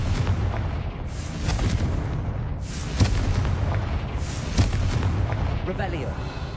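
A Confringo spell blast in Hogwarts Legacy: a roaring, rumbling burst with sharp booming peaks near the middle and later on, over a dense constant wash of game sound.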